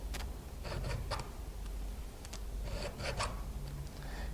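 Hand file rasping across a chainsaw chain tooth in a roller filing guide, a few quick, even strokes in close-up that scrape with a dry, gritty rasp over a steady low hum.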